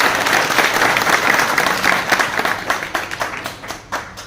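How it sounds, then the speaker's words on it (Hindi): Loud applause from the crowd at a village meeting in Kaithal for the staff of the Khanpur middle school. Dense, steady clapping holds for a few seconds, then thins into scattered claps and fades. "मैं चाहता हूं कि एक बार क्लैपिंग जोरदार हो जाए"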